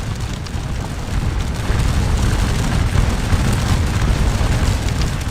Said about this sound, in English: they take casualties from the musket fire